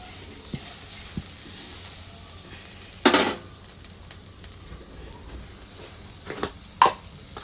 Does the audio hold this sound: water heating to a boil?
yes